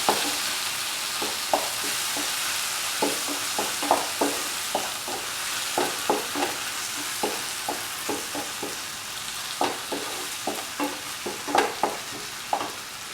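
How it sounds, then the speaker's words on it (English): Tomato stew being mixed with salt in a frying pan, a spoon scraping and tapping the pan in a steady, regular rhythm of short strokes over a low background sizzle, close by and with no voices. "Salt and mix."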